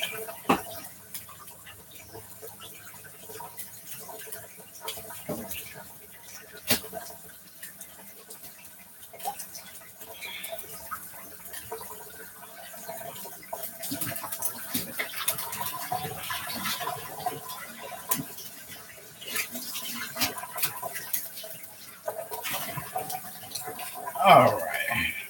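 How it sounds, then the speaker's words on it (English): Kitchen tap water running while a knife is washed, a soft steady stream with occasional splashes and clinks, moderately close, with a person talking over it at times. "Go ahead and take my knife, give it a wash."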